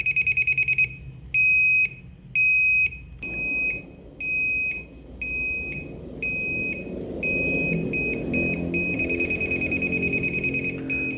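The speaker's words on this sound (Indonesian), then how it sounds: "LED dan buzzer akan menyala setiap 50 milisecond" An LED-and-buzzer distance-sensor circuit beeps every 50 milliseconds when an object sits about 7 cm away, below 10 cm, giving a loud, sharp run of tones that becomes faster and almost continuous toward the end over a low background hum.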